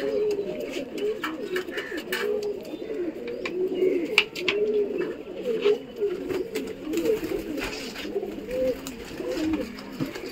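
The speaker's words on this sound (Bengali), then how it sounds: "30টার উপরে পায়রা এখনো উড়ছে" A flock of young pigeons coos continuously in a low, rolling chorus around a home loft during morning flight training, steady and fairly close with occasional sharp clicks above.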